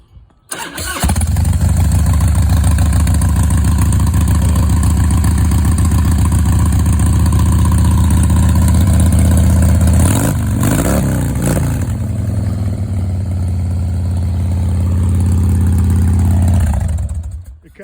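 A 2004 Harley-Davidson Dyna Super Glide motorcycle engine cranks and fires up, then settles into a loud, steady, rumbling idle close by before it is shut off near the end.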